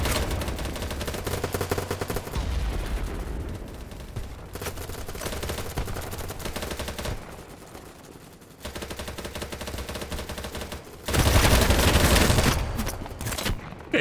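Rapid automatic gunfire in a shooter video game comes in loud, sustained bursts separated by brief lulls, with a heavier burst of shots near the end and no talk.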